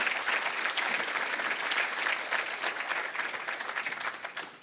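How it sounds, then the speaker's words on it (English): An audience at a regional chamber of commerce annual meeting applauds a community award recipient, with dense, steady clapping that holds at a fairly even level for the whole stretch with no voices on top. "Let's give him a round of applause."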